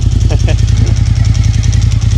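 A Japanese V-twin superbike engine idles nearby with a lumpy, rhythmic chug, and a voice briefly speaks over it.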